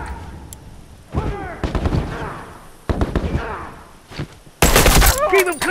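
Loud rifle shots and bursts of gunfire from combat in the video game The Last of Us, with several sharp reports and heavy rapid fire near the end, while voices shout over the fighting.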